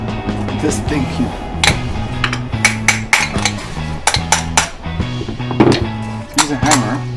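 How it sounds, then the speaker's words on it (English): Sharp, irregular metallic knocks ring out as a hammer works apart a Toyota Corolla 1.8L starter motor, the strikes loud and close with some clinking between them. "Use a hammer,"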